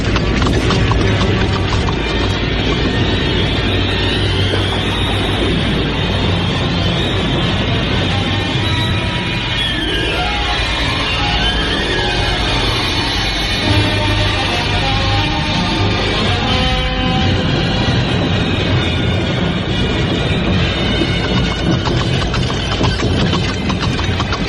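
Horse-drawn carriage in a radio drama, rolling slowly over a stony road in rain: steady clip-clopping hooves and rumbling wheels, loud and continuous throughout, with no voices.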